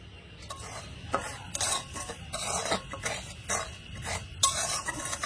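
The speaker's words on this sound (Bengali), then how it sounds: "সুজিগুলো আমি একটু শুকনো খোলায় ভেজে নেবো হালকা করে" Semolina dry-roasted in a wok, stirred with a metal utensil that scrapes and clinks against the pan in a steady run of short strokes, close up with no talking.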